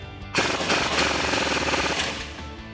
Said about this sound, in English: tighten down our lower strut bolt. So we'll grab a 19mm wrench on our bolt side and a 19mm socket on our nut side and tighten that down